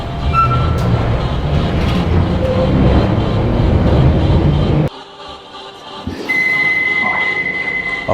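London Underground or overground train ride, a loud steady rumble of the carriage running along the rails, dropping abruptly to a quieter hum midway before a high whine and renewed running noise return.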